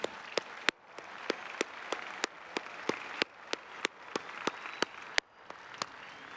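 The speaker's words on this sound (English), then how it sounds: "let's one more round of applause for the class" Sparse clapping at the Ohio State University Spring 2024 commencement, honoring the graduating class: a dozen or so sharp, separate claps that sound like a few nearby hands. A soft, hissing crowd murmur carries on beneath them.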